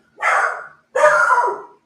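Two loud, close barks from a dog, each about half a second long with a short gap between, heard alone with no talking.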